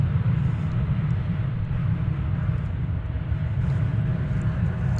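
Airliner in from Helsinki taxiing to Terminal D at DFW Airport, heard as a steady, loud jet engine roar with a constant low rumble and faint whine, no voices.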